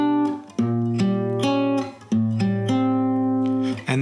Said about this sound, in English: it's a diminished chord